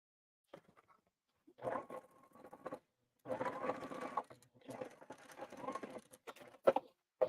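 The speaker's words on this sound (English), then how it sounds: "I'm going to just stick my needle right in there, go forward, back tack, and then just keep going" A sewing machine stitches a tote bag lining with a back tack, running in several short bursts separated by pauses, close and fairly quiet with faint handling clicks.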